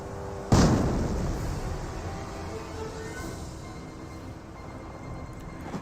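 A mortar shell strikes in the World War II strategy game Company of Heroes, one sharp loud blast followed by a long rumbling decay alone.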